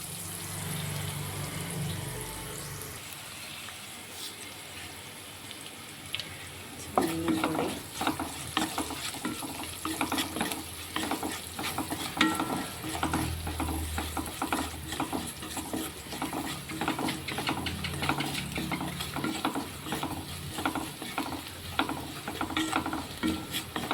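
Sliced okra being stir-fried in a pan with turmeric sizzles steadily, with repeated scraping stirs after a quieter start, close and continuous without talk.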